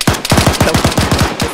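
Rapid automatic gunfire in the video game Arma 3, a single fast burst of about a dozen evenly spaced shots, loud and close with no talk.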